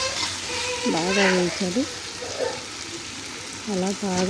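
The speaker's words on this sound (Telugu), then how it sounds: "ఇందులో యాడ్ చేసి పచ్చివాసన పోయేదాకా బాగా వేయించాలి." A paste of ginger, garlic, coriander powder and coconut fries in a pan, giving a steady sizzle throughout while someone talks over it in Telugu.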